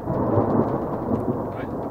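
Thunder rolls low and broad through a storm cell on the Tornado Alley plains, a steady rumble that lingers across the full two seconds with gusty wind noise beneath.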